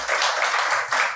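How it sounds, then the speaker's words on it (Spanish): Congregation applauding during a church service, a steady wash of many hands clapping together with loose rhythmic surges, fairly close and sustained for the whole moment without talk. "Y podemos darle un fuerte aplauso al Señor en esta hora."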